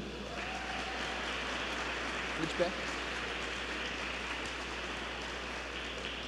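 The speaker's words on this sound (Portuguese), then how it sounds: "os irmãos dão uma salva de palmas em nome de Jesus" A church congregation applauds graduates with a dense, steady patter of many hands clapping. It fills the whole stretch like rain on a roof. A voice speaks briefly over it.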